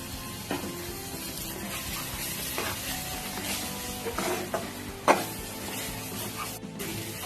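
Cashew and almond paste frying in a pan for a lobster malaikari, with steady sizzling under repeated stirring and a few sharper scrapes of the spoon against the pan.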